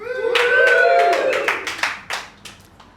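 Comedy show audience whooping and cheering, then scattered claps and a few sharp hand claps trailing off as the crowd quiets.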